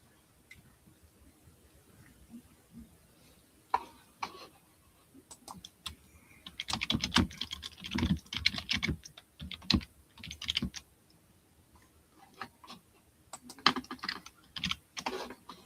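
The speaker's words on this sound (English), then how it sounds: "while I type it in" Fingers tap a computer keyboard during a live auction of vintage items, scattered quiet clicks giving way to brisk bursts of fast typing with short pauses between runs.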